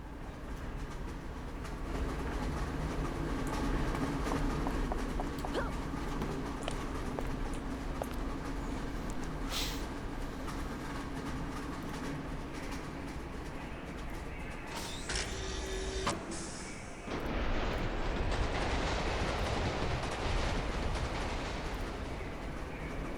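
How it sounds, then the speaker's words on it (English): Monorail ride in the video game City of Heroes: a steady rolling train rumble with mechanical creaks and rattles, a brief hiss near the end, then the car noise swells louder and denser. "We'll take the monorail to do that."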